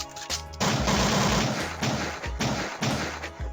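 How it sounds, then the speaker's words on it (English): A dense burst of rapid gunshot sound effects, heavy thumping reports firing in quick succession for several seconds with brief pauses, loud and close. "What the hell, so many gunshots?"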